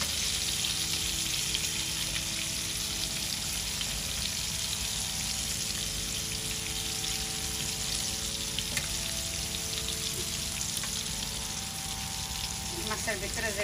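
Hilsa fish pieces frying in hot oil, a loud, close, unbroken sizzle and crackle that runs the whole time, with a faint steady hum and a few light scrapes near the end.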